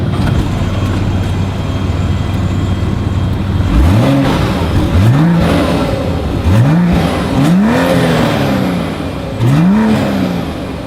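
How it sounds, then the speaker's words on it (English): The dual exhaust of a 2026 BMW X7 SUV blips up sharply five times in quick succession, each deep rev rising and falling back to a steady rumbling idle, loud and close. "here is that exhaust clip"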